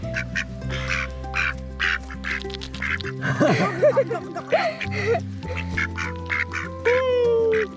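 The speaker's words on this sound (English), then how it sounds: "there were 2 beautiful mallards who had made their home in a collapsed lava tube spring" Mallard ducks in a garden built around a collapsed lava tube spring give a few nasal quacks that rise over steady outdoor background noise, with people talking nearby.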